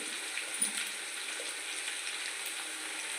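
Chicken biryani ingredients frying in a pan, a steady bright sizzle close up with faint stirring clicks, continuous and even throughout, no talking.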